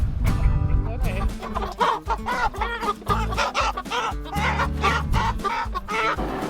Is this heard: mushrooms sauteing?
no